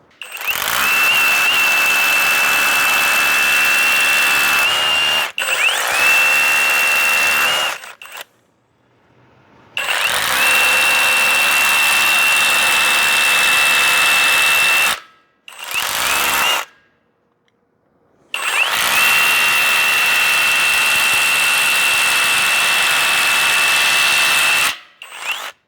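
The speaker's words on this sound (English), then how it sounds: "We're gonna set it up to the hammer mode." A SCANS cordless heavy-duty rotary hammer drill bores in hammer mode in three long, loud bursts of steady rattling hammering with a high whine, separated by short pauses.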